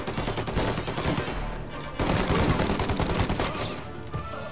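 Rapid gunfire from cover in the video game Mafia Definitive Edition, dense overlapping shots and bursts over a few seconds, loud and close, no speech.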